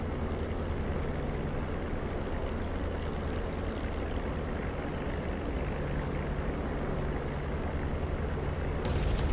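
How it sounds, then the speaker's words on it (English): Distant explosions and rumbling battlefield noise from a World War II ground-attack sortie in the DCS World flight simulator, with a P-47D Thunderbolt over Cherbourg, forming a steady dense roar with a swell near the end. "Another explosion there."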